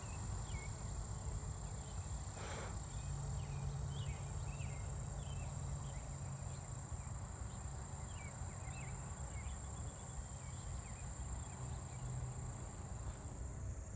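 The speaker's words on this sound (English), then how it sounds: "I'm hearing southern ground crickets around too," A continuous high-pitched insect trill from southern ground crickets fills the background outdoors, steady and unbroken, with faint bird chirps now and then.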